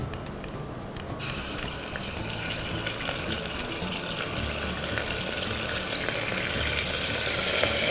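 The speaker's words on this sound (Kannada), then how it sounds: "ಇನ್ನು ಸ್ವಲ್ಪ ಎಣ್ಣೆಲಿ ಹುರ್ಕೊಳ್ತಾ ಇದ್ದೀನಿ" Masala and ginger-garlic paste fry in hot oil for egg biryani, making a dense, continuous sizzle that starts after a brief quieter moment and holds steady and close for several seconds, with no speech.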